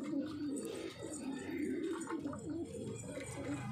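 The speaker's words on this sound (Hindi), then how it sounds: "कबूतर पंजाबी है जी मलवई।" Punjabi Malwai pigeons coo in a steady, overlapping murmur of low throaty calls, close by and continuous throughout.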